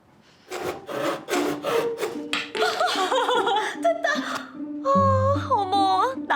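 Rhythmic back-and-forth rasping of a handsaw cutting wood for a table leg, loud and close, with voices and laughter mixed in.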